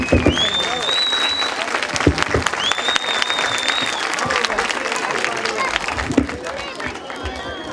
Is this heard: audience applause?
yes